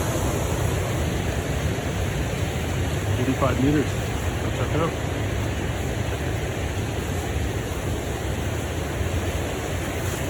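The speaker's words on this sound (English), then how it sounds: "Beautiful waterfall." Waterfall on Bird River in Nopiming Provincial Park, a steady broad rushing roar of falling water that fills the scene throughout, with a person speaking briefly over it.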